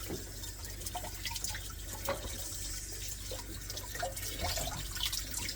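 Tap water runs and splashes over a cutting board being rinsed before dressing quail, a steady close trickle with small drips and no talk.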